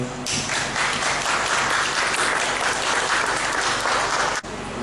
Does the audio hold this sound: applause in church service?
yes